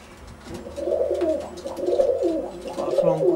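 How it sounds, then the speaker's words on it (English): Tippler pigeons coo nearby in low, throaty rolling calls that overlap in a continuous murmur, steady and moderately loud throughout. "Oh, they're beautiful birds."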